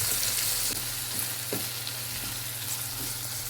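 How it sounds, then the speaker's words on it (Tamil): Tomato and brinjal sautéing in hot oil for a multi-grain chickpea kara kuzhambu, a steady broadband sizzle with a low hum beneath and a few soft stirring scrapes, close and continuous with no voices. "தக்காளி சேர்த்துட்டு நல்லா ஒரு 30 செகண்ட் நல்லா வதக்கி விட்டுக்கலாம்."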